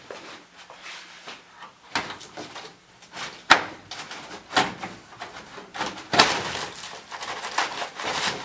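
Ruined package tray material is pulled out of a 1969 Dodge Charger with close crinkling, tearing and crunching, broken by a few sharp snaps and thumps. The sound is moderately loud with no talk.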